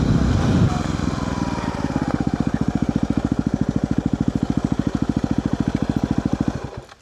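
A Yamaha WR250R motorcycle with an aftermarket full exhaust idles with a loud, steady, rapid exhaust putter, close to the microphone, before cutting off at the end.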